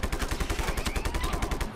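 Rapid automatic gunfire in a video game, a fast steady burst of sharp repeated shots close and loud for under two seconds, with no voices.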